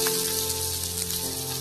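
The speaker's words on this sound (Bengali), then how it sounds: "পেঁয়াজটাকে ভেজে নেব।" Onions sizzle steadily in hot oil while frying in a pan for Bengali-style singara filling, a continuous close hiss with no talking.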